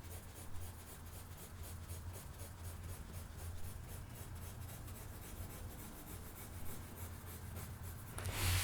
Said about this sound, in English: We'll just use our pencil and shade that in.